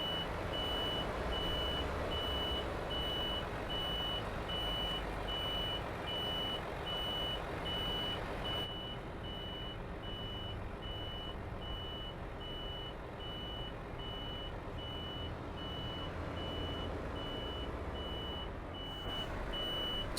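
Euro Truck Simulator 2 truck reversing while turning around to back into a parking spot: a steady, evenly spaced reversing beep runs throughout over a constant engine drone, with no talk.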